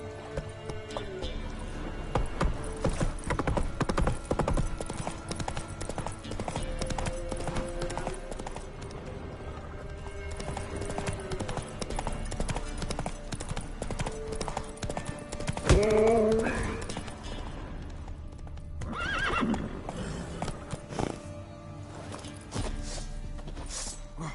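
Horse hooves clip-clopping at a steady trot with a whinny partway through, set against a busy outdoor scene in a fantasy drama, with brief background speech.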